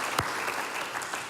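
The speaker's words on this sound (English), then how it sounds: "Let's give Jack a round of applause." Brief burst of audience applause at a live storytelling event, a short steady wash of clapping with no clear beginning or end.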